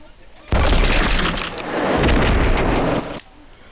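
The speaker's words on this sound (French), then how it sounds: "Et là, l'explosion finale." A final explosion at the end of a rocket launch in the Fortnite Creative editor: a loud, sustained, broadband roaring blast lasting nearly three seconds, starting abruptly and cutting off sharply, with no talk over it.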